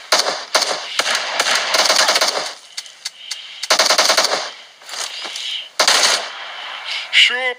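Bursts of automatic gunfire from the battle royale video game PUBG, rapid machine-gun rattles in several loud volleys separated by short pauses, with a few isolated single shots between them.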